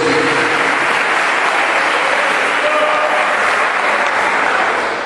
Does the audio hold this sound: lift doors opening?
no